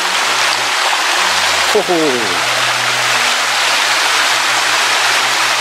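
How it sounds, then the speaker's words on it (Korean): Steady broadband rushing of flowing stream water in rural Seongju County, South Korea, fills the clip, with a person briefly vocalizing over it partway through. "물소리 들리시죠?"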